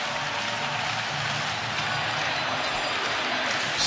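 A packed baseball stadium crowd at the World Series between the Los Angeles Dodgers and Toronto Blue Jays roars in a dense, continuous wash of cheering and noise that holds steady and swells slightly at the end.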